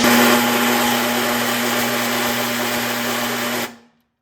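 A seized Ariens snowblower engine strains in a loud, steady grinding whine with a constant hum, running close for several seconds before cutting off abruptly into silence.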